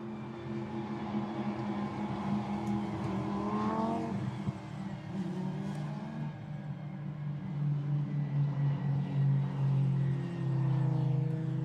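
Lamborghini Super Trofeo race cars accelerate through the sweeping turn 3 at Barcelona, with engine tones rising and falling as cars pass, over a continuous rumble from the field.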